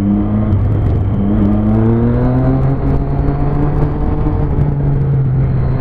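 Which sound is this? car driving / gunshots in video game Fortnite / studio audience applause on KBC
car driving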